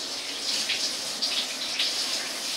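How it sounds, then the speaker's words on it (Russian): Water runs steadily from a tap in a hotel shower cabin, a bright continuous splashing hiss up close with slight surges. "Конечно, кран, чтобы вода текла."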